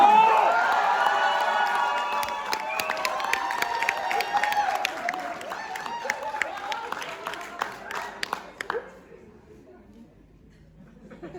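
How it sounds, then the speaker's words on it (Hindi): Studio audience claps and cheers at a comedy show, starting loud and busy with laughter and crowd noise, then thinning into scattered claps before dying away to near silence. "तालियां तालियां"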